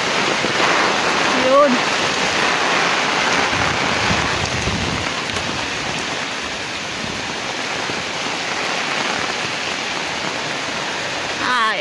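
Strong super typhoon wind roars steadily outdoors, mixed with rushing rain-like noise; a voice speaks briefly early on.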